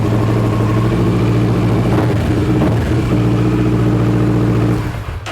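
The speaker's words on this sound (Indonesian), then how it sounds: "Kita cek starter, mantap ya, langsung bisa hidup ya." A Kawasaki ER6N motorcycle engine runs loud and close after the starter is pressed, holding a steady throbbing idle before fading slightly at the end.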